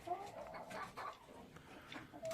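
Soft clucking and chirpy bird calls from nearby chickens, scattered and irregular over a low outdoor background.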